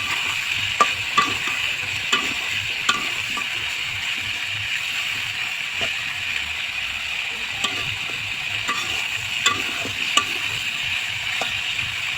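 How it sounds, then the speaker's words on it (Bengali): Chicken pieces fry with a steady, moderate sizzle while a utensil taps and scrapes the pan at irregular intervals. "এবার লাল লাল করে ভেজে নেব"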